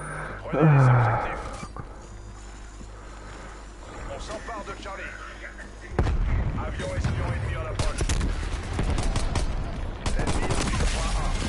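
Bursts of gunfire from Call of Duty Cold War crackle in rapid volleys, loud and close, with a sharp onset of heavy shooting midway and scattered shots earlier, while someone talks over the action.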